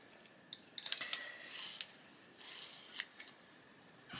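A colouring pencil being sharpened, with a series of short scraping, rasping twists in bursts, close and quiet, with no talk over it.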